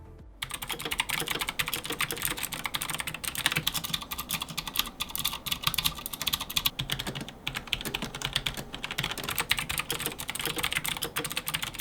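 Rapid, continuous typing on a Tesoro Excalibur SE Spectrum keyboard with optical mechanical switches, a dense clatter of close keystrokes with a steady rhythm and no talking.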